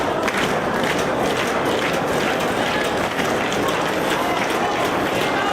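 A wrestling crowd at a Ring of Honor match cheers and applauds in a dense, continuous roar, loud and unbroken throughout, with voices mixed into the din.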